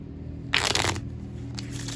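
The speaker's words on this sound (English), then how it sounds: "So riffle shuffle without disturbing the top card." A deck of playing cards is riffle shuffled once, a brief close burst of rapid fluttering card clicks over quiet room tone, with no talking.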